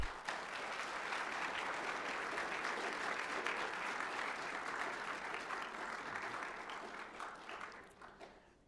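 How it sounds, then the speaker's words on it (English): Sustained round of applause from an audience at a high school honor society induction ceremony, broad steady clapping that holds for several seconds and then tapers off near the end. "Please give your family and friends a round of applause."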